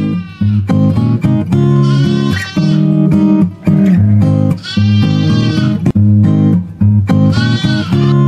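Lambs on a Sahelian sheep farm bleat repeatedly and loudly, several overlapping calls following one another close by with only short gaps, no talking.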